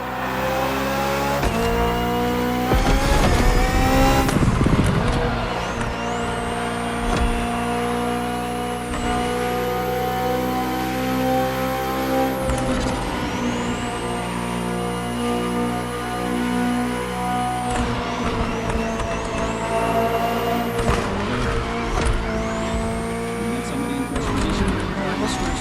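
A 2023 BMW M Hybrid V8 endurance race car in The Crew Motorfest, its engine revving and rising through gears with steady, loud droning pitch sweeps, heard continuously beneath a talking voice.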